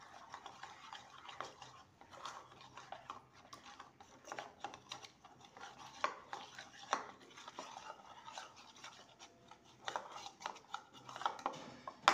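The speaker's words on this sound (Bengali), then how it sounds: "আর জল দিয়ে একটা ব্যাটার বানিয়ে নেব" A spoon stirs water into a batter for a stuffed bread snack, making soft, continuous scraping and light clinks against the bowl, faint and uneven in rhythm.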